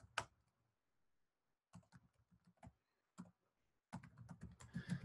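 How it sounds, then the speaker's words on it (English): Computer keyboard typing code, close and quiet, in short bursts of rapid key clicks separated by silent pauses, ending in a denser run of keystrokes. "So let me type out the code and then we'll explain it."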